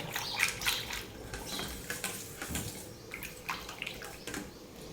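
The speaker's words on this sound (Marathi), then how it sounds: "मी ह्या रवीच्या साह्याने एकत्र मिक्स करून घेणार आहे असं थोडंसं हलवायचं" A wooden churner (ravi) stirs a mixture in a pot. There is close, wet swishing with light knocks against the pot, and no talk.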